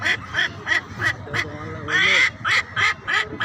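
A person's voice imitates a duck, giving about ten short nasal quacks in a quick, regular rhythm, with one longer drawn-out quack midway, close and fairly loud.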